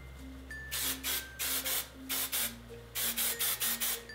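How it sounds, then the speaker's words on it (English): Quick bursts of fine, light-hold hairspray hiss in a fast series of short puffs, close by, over a faint background hum. "I'm gonna take some fine hairspray or light hold. I'm gonna spray everywhere."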